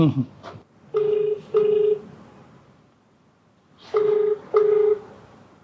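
Touch-tone telephone keypad dialing before a call: four distinct DTMF beeps in two pairs, loud and near, with a short burst of speech at the start.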